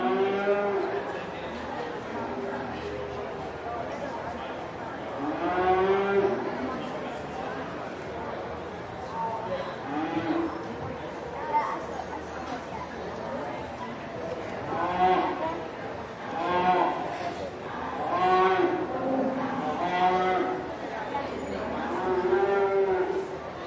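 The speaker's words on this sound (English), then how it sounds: "Two extremely dairy cows here in our breed class. I'm going to start with the Holstein." Holstein dairy cows at a county fair dairy show moo repeatedly, several drawn-out calls rising and falling over steady crowd chatter and background arena noise throughout.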